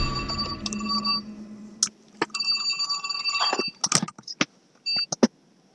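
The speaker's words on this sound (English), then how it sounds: "Sorry about that. Phone call." Telephone ringing during a Tomb Raider gameplay session, a series of electronic trilling rings broken by short gaps and clicks, fairly loud and close, with no talking over it.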